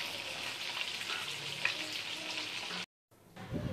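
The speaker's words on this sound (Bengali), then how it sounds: "এবার আমি মাছগুলোকে এক এক করে ভেজে নেবো।" Pabda fish pieces fry lightly in hot oil one by one, giving a steady close sizzle that drops out briefly near the end before resuming.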